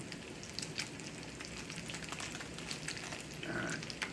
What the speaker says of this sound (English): I'm just going to braise it in cast iron skillet here.